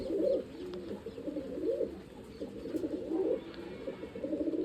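White pigeons coo in soft, repeated rounded calls close to the microphone, overlapping in a steady rhythm with a low background hiss and no talking.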